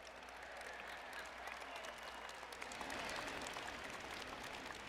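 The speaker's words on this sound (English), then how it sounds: "You get the biggest applause every time." Stadium crowd applauding distinguished guests brought onto the field at a Red Sox pregame ceremony, a distant, broad roar of clapping and cheering that swells slightly near the end, with a voice faintly audible.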